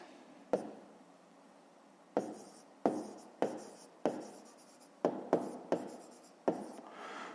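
Pen strokes of a pupil writing out a fifth-grade maths answer, a run of about nine short scratchy bursts with pauses between, close and quiet, with no talking.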